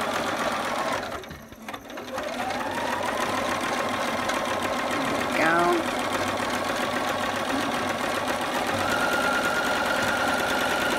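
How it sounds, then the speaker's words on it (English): A home sewing machine stitching a newborn photo prop sews steadily, with a hum and needle patter that continues close and evenly, briefly dipping near the start, with no one speaking. "So I will sew this up."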